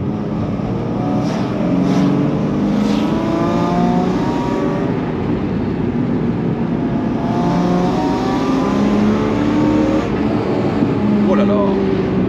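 A BMW E36 325i engine fitted with a stainless steel exhaust manifold revs up and settles in two rising and falling sweeps, its deep, muffled purr close and loud, with a voice talking over it.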